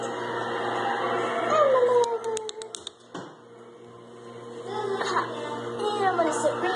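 A Pomsky dog howls and whimpers in long, wavering, high cries, close by and fairly loud, with a steady background hum.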